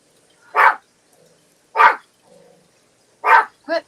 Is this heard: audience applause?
no